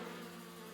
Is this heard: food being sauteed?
no